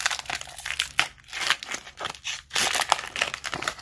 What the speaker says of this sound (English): Okay, let's open these up. See what cards are inside.